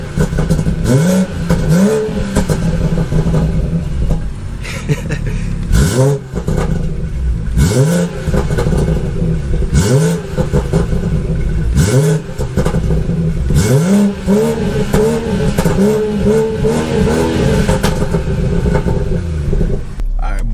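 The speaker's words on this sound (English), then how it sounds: "I just came back and gave it another rev, and it's popping like crazy right now" A BMW 340i with a B58 engine and an aftermarket downpipe revs repeatedly, loud and close, each rise dropping back with crackling pops from the exhaust in a steady cycle.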